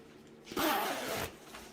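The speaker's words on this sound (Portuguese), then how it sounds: "Zíper." A zipper on a thermal shaping vest pulled in one smooth stroke of about three quarters of a second, a close, bright rasp, followed by a faint shorter rustle.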